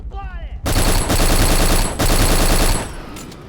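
Rapid automatic gunfire from an enemy in a video game bursts in loud and dense after a brief quiet opening, rattling almost continuously for about two seconds with a short gap before tapering off.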